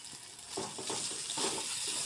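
Chopped tomatoes dropping into spices frying in a pan for patol chingri, giving a soft, fairly quiet sizzle that swells into a few wet bursts of hissing and stirring.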